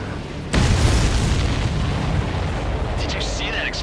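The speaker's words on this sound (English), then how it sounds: "Did you see that explosion? Looks like that's one of them down." A supply ship blows up in the Ace Combat 7 flight game, a sudden loud boom that swells into a long rumbling roar, with faint higher tones flickering near the end.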